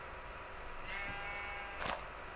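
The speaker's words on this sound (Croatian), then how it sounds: "odmah ovce, to." Sheep in the Minecraft video game bleat twice, a drawn-out wavering baa followed by a shorter, brighter one, heard alone and fairly close over a steady background hum.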